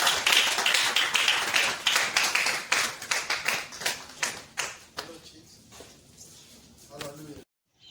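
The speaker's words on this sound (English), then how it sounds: "With a clap offering unto the Lord." A church congregation gives a clap offering, a flurry of hand claps that starts dense and loud, then thins into scattered, fading claps, with voices murmuring underneath before it ends abruptly.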